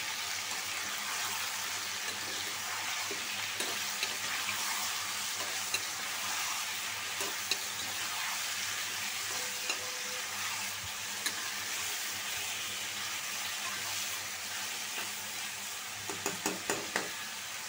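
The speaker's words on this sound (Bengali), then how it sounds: "মুরগি আর আলু একসাথে ভাজা নিব" Chicken pieces and potatoes frying together in a pan on a high flame with a little turmeric give off a steady, loud, continuous sizzle for the whole stretch, with occasional stirring scrapes near the end.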